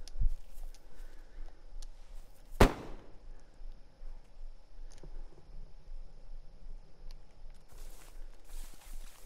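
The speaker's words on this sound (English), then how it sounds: "Guess he's shooting him through a window." A single sharp, loud gunshot cracks out in DayZ as a player fires through a window. It stands out against a quiet, hissing background with faint footsteps and a few distant clicks.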